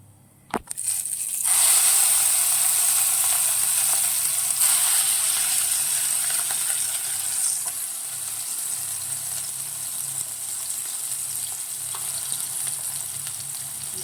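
A Telugu mint chutney is sizzling loudly in a pan as a tempering fries, with a sharp clatter at the start, then a bright, dense hiss that settles slightly softer and continues steadily without speech.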